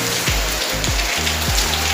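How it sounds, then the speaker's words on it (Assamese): Steady rain falls on a surface, a loud, dense patter of drops that continues without a break. Several low knocking thuds recur at a regular interval beneath it, and no one speaks. "এতিয়া বৰষুণ দিয়ে আছে"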